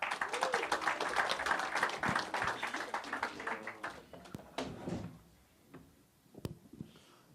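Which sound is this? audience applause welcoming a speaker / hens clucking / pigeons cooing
audience applause welcoming a speaker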